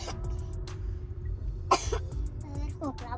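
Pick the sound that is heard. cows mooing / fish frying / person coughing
person coughing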